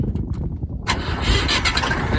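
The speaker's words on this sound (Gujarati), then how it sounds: "સેલ મારીને ટ્રેક્ટર ચાલુ કરી લઈએ પહેલા" A tractor's self-starter cranks with a grinding whir before the engine catches and settles into a loud, steady running rumble, close by with no talk.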